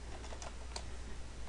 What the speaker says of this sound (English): that will allow me to start typing again, so I can type green this time